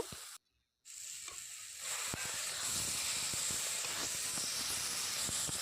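Pre-fried rohu fish pieces go into a pan of frying tomatoes; after a brief silent gap, a close hissing sizzle builds and holds, dotted with small crackles and pops.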